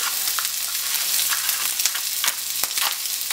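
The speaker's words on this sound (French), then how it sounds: "On va maintenant déglacer au BNB." Pan-fried langoustines sizzle loudly as the hot pan is deglazed with liquid, a dense steady hiss with crackling pops, close up and with no voices.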